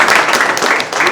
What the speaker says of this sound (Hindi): एक ताली नीलांशु सर के लिए भी